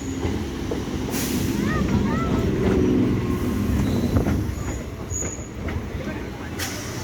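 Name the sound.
Panskura local passenger train running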